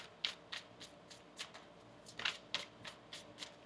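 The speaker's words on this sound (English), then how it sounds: "Let's get one more shuffle here." Tarot cards being shuffled, a quiet run of soft riffling bursts and taps at an uneven rhythm, close and faint, with no talking.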